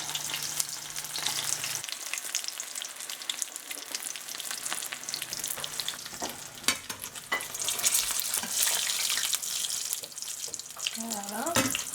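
An egg frying in hot oil while being basted, a steady crackling sizzle close by with scraping and spooning clatter, brief quieter moments, and a voice speaking now and then.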